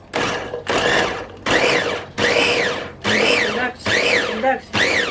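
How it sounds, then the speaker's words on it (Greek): An electric mixer purees eggplants for a quick Greek pickle in a series of about seven short, loud motor bursts with brief pauses between them, running in pulses rather than continuously. "Που σημαίνει ότι δουλεύουμε το μίξερ,"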